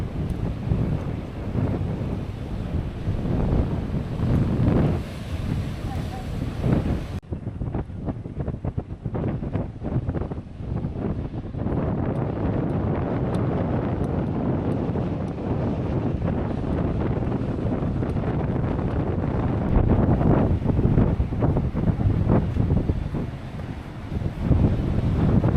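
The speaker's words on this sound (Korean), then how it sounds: "파도와 바위가 만들어내는 울림을 들으며" Waves boom and wash against coastal rocks along a Sydney coastal walk, giving a continuous heavy roar of surf mixed with gusting wind buffeting the microphone, loud and close throughout, with no talking.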